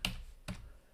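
Two crisp keystrokes on a computer keyboard, about half a second apart, close and fairly quiet, with no talking.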